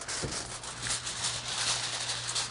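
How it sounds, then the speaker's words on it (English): Aluminum foil being crinkled and pressed over a baking dish for an eggplant, cheese and tomato bake, a soft continuous rustling and rubbing close by, with no talk. "I'm going to cover them both with aluminum foil."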